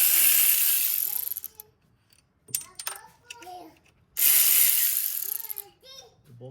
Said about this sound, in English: So you have to loosen these 2 bolts.